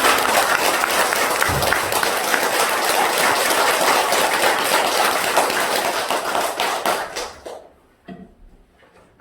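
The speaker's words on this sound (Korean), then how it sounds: "우리 구름 같은 대중이라는 의미로 그렇게 큰 박수를 한번." Congregation at a Won Buddhist dharma title ceremony breaking into loud, dense applause that holds steady for several seconds, then thins into scattered claps and fades out.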